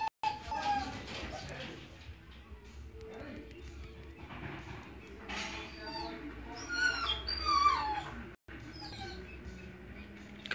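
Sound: puppy whimpering and crying

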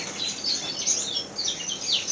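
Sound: various aviary birds calling, finches and yellowhammers

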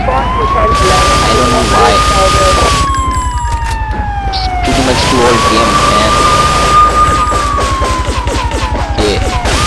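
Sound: ambulance siren in video game Grand Theft Auto III

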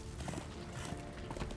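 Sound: horse hooves clip-clopping in video game Darksiders 2

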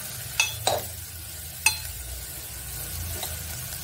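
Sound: sautéing dhemse (round gourd) vegetable in a pan

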